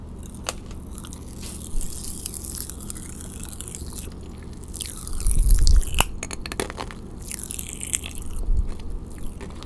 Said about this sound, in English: leave my mouth wide open for you to hear the popping